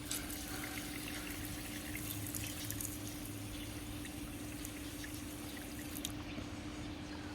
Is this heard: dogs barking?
no